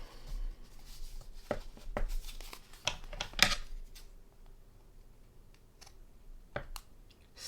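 Scissors trimming the edge of a watercolor paper card, heard as a quiet series of short snips and crisp paper clicks in the first few seconds, followed by sparse, faint handling sounds.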